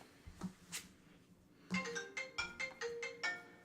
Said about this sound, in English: you got a phone call